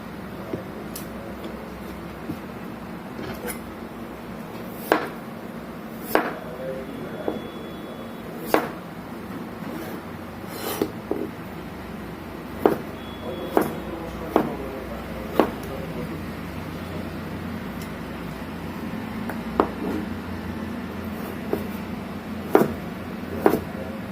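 Potatoes being cut into French fries with a knife on a board: a steady series of crisp chopping thuds, close and distinct, roughly one every second, over faint room noise.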